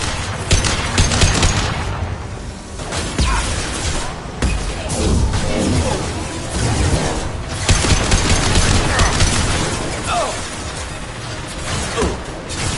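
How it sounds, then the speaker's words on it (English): Combat in the game Mass Effect 2 brings a concussive shot and a fiery incineration blast amid ongoing gunfire and mechanical clatter, loud and dense throughout, with brief voices heard in the mix. "Firing concussive shot! Deploying incineration tank."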